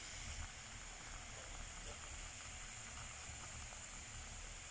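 Kettles (kuğum) boiling on a wood stove in a Turkish home make a steady, dense steam hiss with a low rumbling bubble underneath, continuous and fairly faint throughout.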